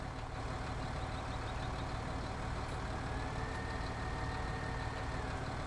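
A tractor engine in Farming Simulator 19, caught against a fence, heard as a steady low droning hum that holds constant throughout with no breaks.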